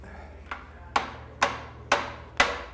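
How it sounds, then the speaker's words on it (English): Five sharp metallic strikes of a small hammer, spaced about half a second apart, ring out close and fairly loud in a workshop where a bent key jammed in half-inch stock is being freed, with a low hum underneath. "That's a sweet little hammer."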